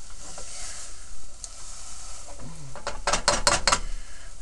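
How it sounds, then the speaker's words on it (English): Cooked rutabaga is mashed by hand in a pot without a metal masher. A quiet stretch leads into a quick burst of several squelchy, clicking strokes near the end. "So I'm mashing it up a little bit."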